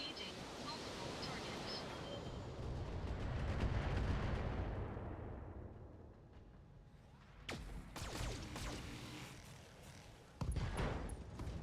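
Mech weapons and missiles fire at a Centurion mech in the BattleTech video game, a rolling barrage of rumbling blasts that swells and fades, followed by sharper impact bursts, with a voice speaking in between.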